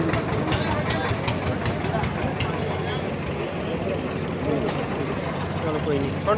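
A tractor engine idles nearby at a farmers' fair with a steady, loud, low rumble that continues throughout.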